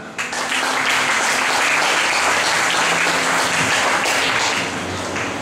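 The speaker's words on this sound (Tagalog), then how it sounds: "pumalakpak." A church congregation applauds during a sermon, a loud, dense roar of clapping that swells quickly and holds steady for several seconds before easing slightly.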